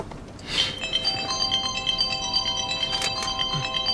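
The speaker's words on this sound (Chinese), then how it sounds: "哥，我接个江叔电话。" A mobile phone rings with an incoming call, its bright electronic melody repeating in steady chiming notes after a brief rustle, fairly loud and close, with a faint background hum.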